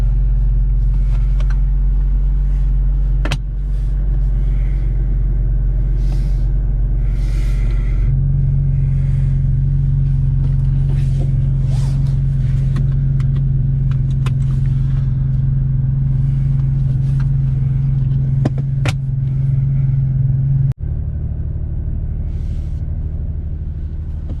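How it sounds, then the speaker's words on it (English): Steady low drone of a BMW M2 engine while driving, rising in tone as it pulls away and holding a constant note before easing back, with no talking. "Let's get in the car and start driving."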